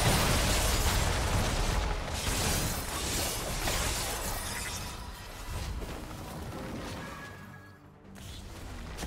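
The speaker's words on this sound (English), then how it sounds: "Red team's turret has been destroyed." A League of Legends turret is destroyed during a Malphite versus Tryndamere top-lane match: a loud, sustained crumbling, shattering crash with a gritty texture that dips briefly near the end before swelling again.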